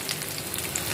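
Lentil fritters frying in hot oil, a soft, steady close-up sizzle with fine crackling, quiet and continuous with no voices.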